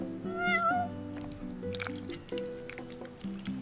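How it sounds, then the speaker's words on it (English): A cat meows in Final Fantasy XV, giving one short rising cry that sits over soft game music with chiming tones and a few wet squishy clicks, all at low volume. "You happy now, cat? You're one spoiled cat."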